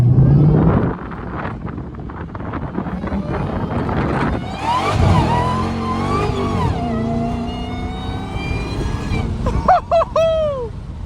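A loud Dodge Hellcat with its hood removed, heard from inside while driving: engine roar and revving with rising and falling whine, strong wind rush, and sharp squealing bursts near the end.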